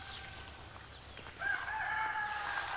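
A rooster among young chickens lets out a single long, loud crow that starts partway through and holds to the end, over a low background murmur with faint earlier clucks.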